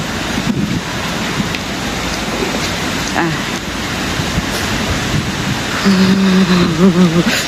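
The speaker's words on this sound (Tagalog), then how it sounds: "Lakas ng hangin, lakas ng ulan" Heavy typhoon rain roars steadily with gusty wind noise throughout in Hong Kong, and a voice briefly rises above it near the end.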